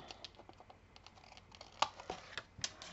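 Scissors snip away excess paper while a baby album is being made, giving a series of light, crisp close-up cuts and paper rustles with a sharper snip near the end, no talking.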